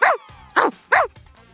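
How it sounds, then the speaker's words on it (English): A Shiba Inu dog gives three sharp, close barks in a quick uneven rhythm, each short and loud, with brief quiet gaps between them. "Chappie is her Shiba dog. She takes it on walks"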